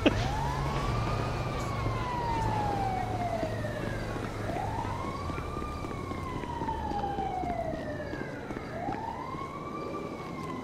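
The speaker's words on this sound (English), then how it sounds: "That sounds like an ambulance." A wailing ambulance siren sweeps up and down in long, repeated cycles, fairly close and steady over continuous traffic rumble.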